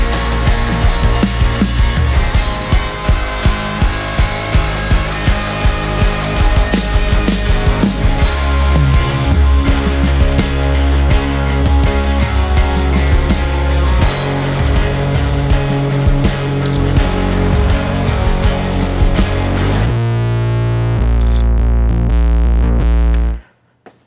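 An electric bass plays with heavy distortion from preamp drive alongside a drum beat, loud and continuous with steady rhythmic hits before the sound cuts off abruptly near the end.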